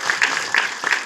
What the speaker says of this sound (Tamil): ப்ளீஸ் ஒரு கைத்தட்டல் கொடுங்க.